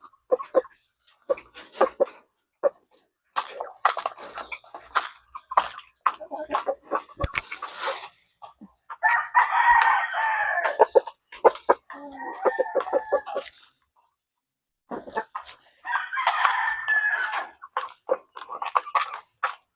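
Rooster crowing repeatedly among clucking chickens in a backyard flock, several loud near calls separated by short pauses, with no talk.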